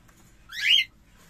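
A single short, bright chirping call from a cockatiel chick in a breeding setup, clear and close against a quiet background.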